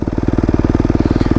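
A Yamaha WR250F dirt bike fitted with a brand-new YZ exhaust idles up close, its loud, steady, rapid thumping pulses repeating evenly throughout with no one speaking.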